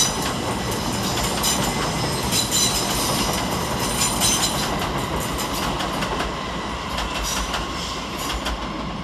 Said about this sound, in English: Departing off in the opposite direction is 387136 and 387135 with 1725 Heathrow Express service to Heathrow Terminal 5.